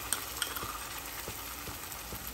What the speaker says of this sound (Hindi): इसे भून लें, अच्छे से भूनिए।